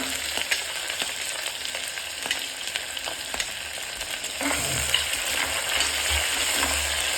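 Onion frying in oil for a vegetable palav gives a dense crackling sizzle, punctuated by clicks and clatter from the pan, and the sizzle grows a little louder toward the end, with no talking over it.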